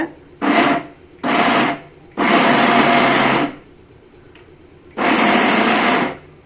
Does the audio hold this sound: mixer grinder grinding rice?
yes